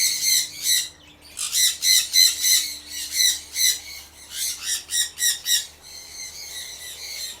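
Small hand-fed birds in an aviary squawk and chatter in rapid, harsh bursts, close and loud, with brief pauses between clusters and a faint steady hum from a blower underneath.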